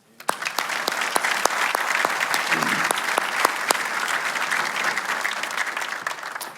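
Steady audience applause at a graduation ceremony, a dense crowd of hands clapping continuously with a few sharper individual claps standing out, loud and sustained throughout.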